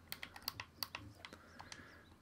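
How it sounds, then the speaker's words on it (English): Rapid keystrokes on a computer keyboard, a quick run of about a dozen sharp clicks in an irregular rhythm, fairly faint and close, with no voices. "That's my fault for trying to type too fast."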